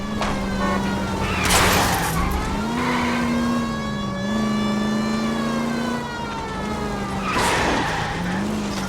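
Car chase in the L.A. Noire video game: a loud, sustained engine note climbs and dips with revving, punctuated by harsh bursts of tire skidding near the start and end.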